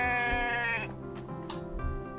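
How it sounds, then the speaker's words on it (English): A sheep in the survival game The Infected bleats in a long, loud, nasal wavering cry, followed by a couple of shorter bleats nearby with no talking. "Ooh, wildlife. It's a sheep."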